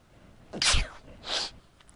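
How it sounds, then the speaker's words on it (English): A single close, sharp sneeze with a breathy intake, followed by a softer second burst, with no talking. "And I am going to sneeze."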